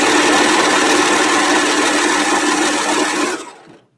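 Close, loud sewing machine stitching runs continuously along the edge of fabric for a skirt being draped, then winds down and stops near the end.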